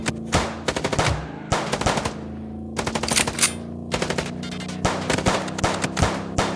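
Rapid bursts of automatic gunfire from the video game Chicken Police, loud and close, firing in repeated rattling volleys separated by short pauses, with no talking.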